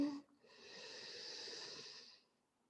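A single long, deep inhale during a yoga session, close and soft, steadily sustained for about two seconds before fading to silence.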